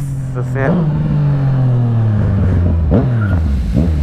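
A motorcycle revving and accelerating hard from a standstill nearby, the engine note climbing through gears with two quick shifts, loud and close.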